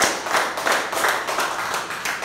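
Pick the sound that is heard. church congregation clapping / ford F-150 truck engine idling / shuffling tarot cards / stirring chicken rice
church congregation clapping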